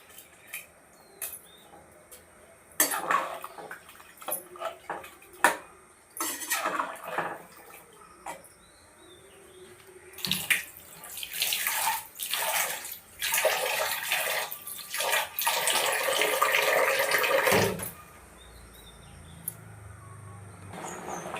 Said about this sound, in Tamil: இதோடு கழுவி வச்ச அரிசியை ஒன்றா சேர்த்துருங்க. தண்ணி மட்டும் கரெக்டாக வைங்க